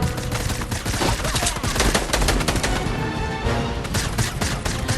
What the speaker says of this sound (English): People are shooting already.